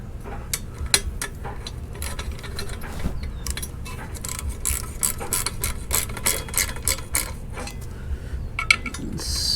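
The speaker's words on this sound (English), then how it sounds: "And grab your ratchet." Ratchet tightening an exhaust nut on a 2021 Honda CRF110 fitted with a Yoshimura exhaust: a rapid run of close, crisp metallic clicks in uneven bursts, loud and continuous with no talking.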